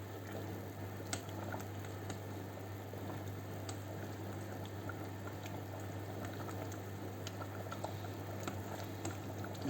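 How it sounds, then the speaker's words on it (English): Pork curry bubbling in a pot as it comes up to the boil: a steady, moderately quiet simmering hiss scattered with small pops and ticks, with no voices. "Let's see how this comes up to the boil quickly."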